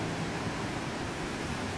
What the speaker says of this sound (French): on a des belles vagues.